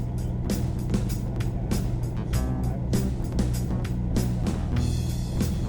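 An Icon A5 light sport aircraft's engine idles at 2,000 RPM, a continuous close, steady drone with rhythmic pulsing and intermittent bursts of noise over it.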